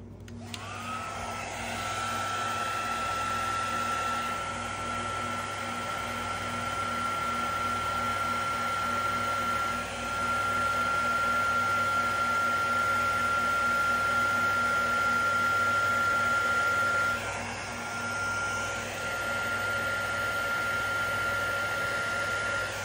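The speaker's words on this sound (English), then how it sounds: "Now I'm going to try it with the embossing torch" An embossing torch blows steadily while heating resin, a continuous loud hiss with a sustained high whine holding for about fifteen seconds, then dipping briefly near the end before resuming.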